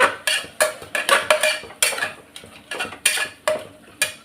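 A spoon stirs mint leaves into biryani masala in a clay pot, making close, repeated scraping and clinking strokes against the pot in a steady, uneven rhythm with no talking.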